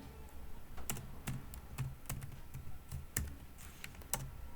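Typing on a computer keyboard, a quiet, irregular run of sharp key clicks with some louder taps among softer presses, close up and without talk.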